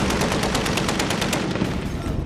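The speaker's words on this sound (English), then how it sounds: "And the AK guns are firing away." AK rifles fire in a conflict zone, a loud, dense stream of rapid automatic gunshots with sharp rhythmic cracks that continues without a break.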